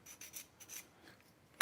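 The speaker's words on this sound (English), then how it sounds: "that's just a sanding stone that I found somewhere. So I just sand it off straight" Faint, short rasping strokes, a few scrapes of a sanding stone rubbing against a hard model surface, quiet and close, ending in a sharp tap.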